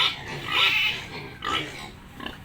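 Pigs at feeding time on a farm, eating their feed with snuffling, chewing sounds and a few soft grunts in short bursts, fairly close, with no talking.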